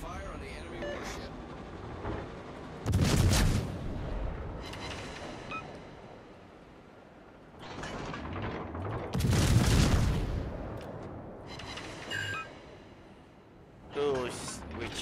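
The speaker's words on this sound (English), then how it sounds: "Concentrate fire on the enemy warship." Warship cannons fire in a naval video game battle: a few deep, heavy booms spaced several seconds apart, with quieter mechanical rumble and voices talking between the blasts.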